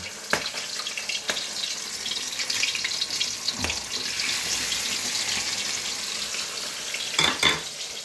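Oil crackles and sizzles steadily in a pan, with a few sharper clatters and splashes breaking through the constant hiss.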